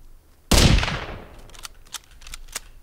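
A single loud rifle shot in the survival game Sons of the Forest, booming close with a long decaying tail, followed by a few faint clicks and knocks.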